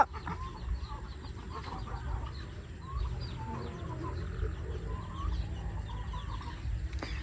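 Farm chickens, including Rhode Island types, clucking and murmuring in a busy flock, many overlapping soft calls close by over a low outdoor background.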